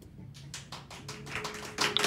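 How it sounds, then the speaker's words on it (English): Studio audience on a live call-in talk show breaking into applause, starting as scattered individual claps and building into denser clapping that grows louder toward the end. "Oh, you don't have to applaud for everything."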